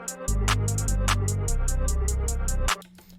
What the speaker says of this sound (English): So the last thing I added was an 808 switch up to a respace.